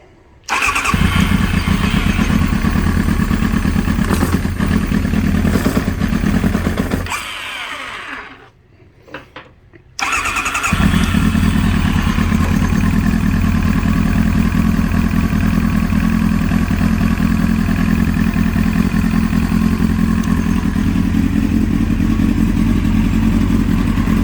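A Kawasaki ZX9R motorcycle engine being revived runs loudly and close, then drops out for a couple of seconds before catching again and settling into a steady rough idle.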